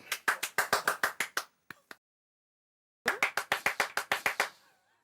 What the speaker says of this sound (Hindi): अब अगर कैंप हो रहा है तो मैं आ रहा हूँ। बजाओ ताली।